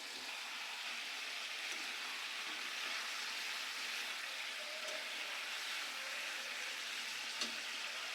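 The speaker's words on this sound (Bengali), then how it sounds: "মাংসটা দেখুন ভাজা হয়ে গেছে, হালকাই ভাজবো, বেশি ভাজবো না।" Chicken meat fries in oil, a steady, soft sizzling hiss that stays even throughout with a faint pop or two.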